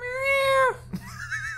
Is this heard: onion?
no